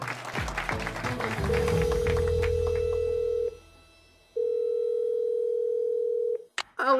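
A telephone line's steady ringback tone sounds in two long beeps after a burst of crowd noise and applause, followed by a brief click as the call connects.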